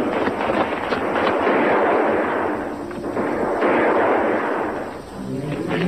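Booming artillery and bursts of gunfire rumble continuously in a film battle scene aboard ships, dense and loud with overlapping blasts that swell and fade, a brief dip near the end.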